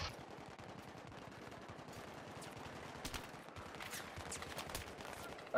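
Video game gunfire rattles in rapid automatic bursts, dense and continuous at moderate distance, with a few sharper single shots standing out near the end.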